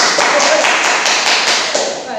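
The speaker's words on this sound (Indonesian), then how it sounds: "kita kasih tepuk tangan" An audience at an Indonesian talk show gives a short, dense round of clapping, loud and close for about two seconds.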